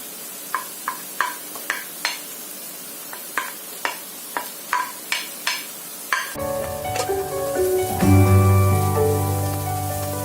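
Ginger and garlic sizzle in a hot pan for a paneer masala, with crisp, evenly spaced stirring scrapes at first, then a louder, steady frying hiss that swells and settles.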